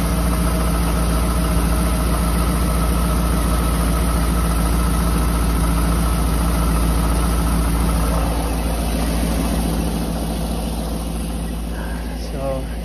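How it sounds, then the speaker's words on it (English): Diesel truck engine idling after a repair for regular gas in the tank, a steady low rumble with an even mechanical knock that holds constant and close throughout. "So she has started. And I'm gonna let her just sit here and idle."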